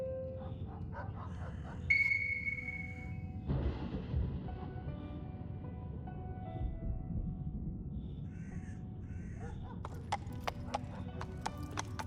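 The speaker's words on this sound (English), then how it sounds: "有一只乌鸦。" A crow caws a few times in a quiet outdoor setting, against steady horse hoof clip-clops, with a horse whinny in the background.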